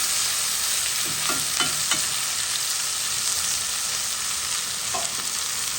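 Tomato and eggplant mixture with thyme simmering gently in a pan over lowered heat, a steady soft sizzle and bubbling throughout with a few faint stirring scrapes, no voices.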